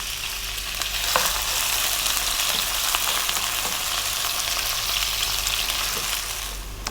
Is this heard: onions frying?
yes